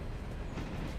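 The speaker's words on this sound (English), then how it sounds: "Trains are loud." Trains rumble in the railroad simulation game Railroader, a dense, steady low roar with no talking over it for the whole short stretch.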